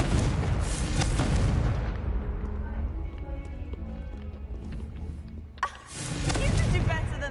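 A fiery Confringo spell blast in Hogwarts Legacy, a loud booming burst that rumbles and decays over several seconds, then a second heavy impact swells near the end.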